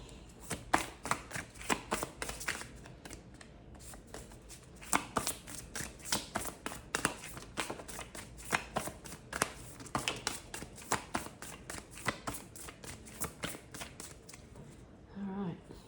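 Deck of tarot cards being shuffled close up, a long run of rapid riffling flutters and soft slaps in quick irregular rhythm, with no voices.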